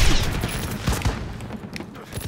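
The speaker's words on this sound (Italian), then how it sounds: "quanti cazzo di colpi devo sparare" Dense, continuous rapid gunfire in a video game, loud and close, with crackling shots piling on one another and hardly a pause throughout.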